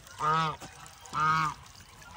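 Two loud, nasal goose honks, each about a third of a second long, close by with a short pause between, and the start of a third at the end.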